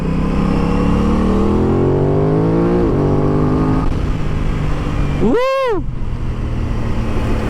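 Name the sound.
Aprilia RS660 motorcycle engine accelerating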